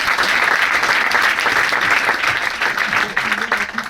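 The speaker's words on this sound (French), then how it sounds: "je pense que ça s'applaudit" An audience gives steady, sustained applause, with dense and continuous clapping that stays loud throughout.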